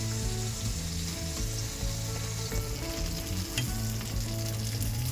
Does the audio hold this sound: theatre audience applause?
no